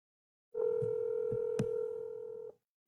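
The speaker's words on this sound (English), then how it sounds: "I'm going to try Miss M one more time, who did give me her phone number" A telephone line gives a single steady tone for about two seconds, broken by a few faint clicks as a number is dialed, then stops abruptly.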